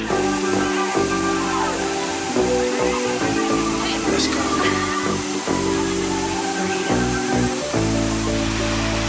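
Champawati waterfall in Assam gives a steady, broad rushing roar that fills the whole clip, with tonal sounds or voices layered faintly on top.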